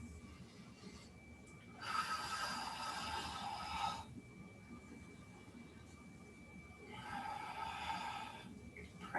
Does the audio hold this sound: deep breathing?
yes